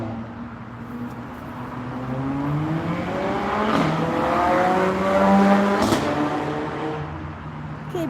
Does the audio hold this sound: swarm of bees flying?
no